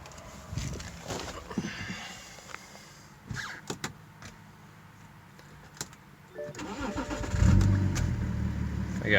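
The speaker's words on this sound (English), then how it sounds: "I'll do a little startup for you guys." A BMW E91 335d wagon with a swapped-in M57 diesel engine goes through a few clicks and knocks from the cabin and key, then near the end it cranks, catches and settles into a loud, close diesel idle.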